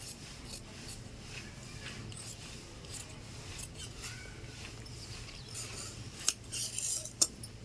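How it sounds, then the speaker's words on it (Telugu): Scissors cutting blouse cloth with extra margin left for the neck seam, close, quiet crunching snips in an irregular rhythm, with a few sharper metallic clicks near the end. "ఇట్లా ఎక్స్ట్రా ఉంచుకొని క్లాత్ కట్ చేసుకుంటున్నాను"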